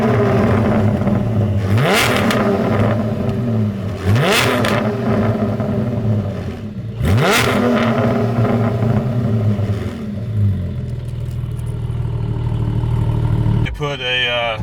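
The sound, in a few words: car revving with Soul Performance exhaust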